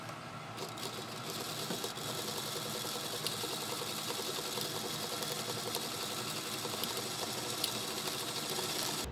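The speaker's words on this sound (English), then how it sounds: "now we will go over to the machine, grab some matching thread, and zigzag" Sewing machine zigzag stitching a denim patch onto jeans, a steady continuous mechanical whir with fast rhythmic needle ticking running throughout, close and fairly quiet, with no talk.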